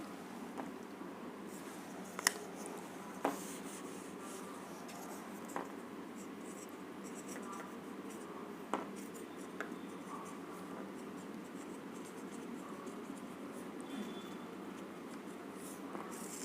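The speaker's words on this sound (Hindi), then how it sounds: "मैं यहाँ लिख देती हूँ" Handwriting during a chemistry lesson, a steady scratching of a pen on a writing surface with occasional light taps, continuous and fairly quiet over a faint background hiss.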